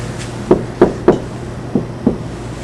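Knocks on a locked basement door in an old English building, five distinct raps in an uneven sequence, fairly close and alone over quiet room hiss.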